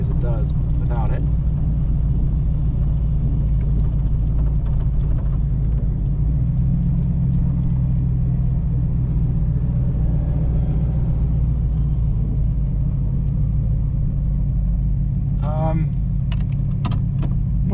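A 1940 Chevrolet Special Deluxe with power steering runs at a Las Vegas classic car dealer, its engine a constant deep rumble throughout, with light rattles and someone talking over the steady drone.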